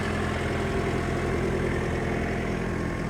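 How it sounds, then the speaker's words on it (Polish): The engine of a Vögele SUPER 800-3i small asphalt paver idles smoothly, a steady, even low rumble heard close and alone. "Silniczek sobie fajnie, równiutko pracuje."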